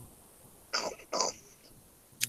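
Two short, close throaty coughs in quick succession, followed by a faint sharp sound at the end, in a quiet room.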